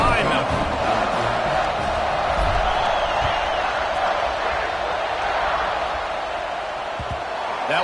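A football stadium crowd waits for a kickoff, a dense, steady roar filling the whole stretch at an even, loud level with faint whoops rising now and then.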